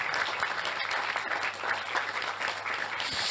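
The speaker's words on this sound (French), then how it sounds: "Je crois qu'on peut l'applaudir, on va la remercier." Audience applause after a debate at a Colombian film evening, dense steady clapping from a seated crowd, close and continuous without a break.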